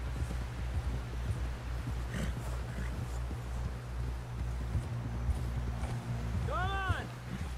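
Horse hooves galloping in the video game Red Dead Redemption 2, a steady clip-clop rhythm over a low rumbling game soundscape, with a brief tonal call near the end.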